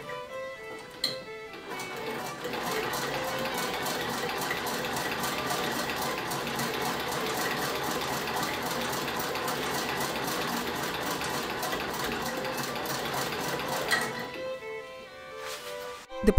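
Sewing machine stitching a Victorian blouse along a marked line, a steady rapid mechanical whir and clatter running continuously for about twelve seconds before stopping, close and even in loudness.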